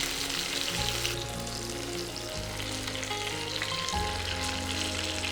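Honey garlic chicken pieces, scored on one side, sizzle and fry loudly and steadily in a pan, with brief shifts as the pieces are turned.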